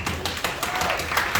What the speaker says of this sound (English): So right, clap your hands